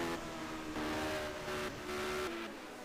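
Racing cars from a 1973 German Grand Prix racing game drone with steady engine tones that shift in pitch as they rise and fall through corners, moderately loud and continuous.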